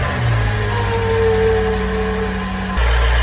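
A BMW M8 engine with a newly installed tuning chip fires up and runs, a loud, close, steady rumble whose tone drops and settles near the end, with no one speaking.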